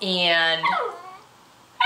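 A dog whimpers close by in a long, high, wavering whine that slides downward, then a second shorter whine follows, with a word spoken at the very end.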